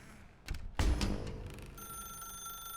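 A telephone rings inside The Stanley Parable video game, a single sharp bell burst followed by a sustained electronic ringing tone, fairly quiet and heard without talk.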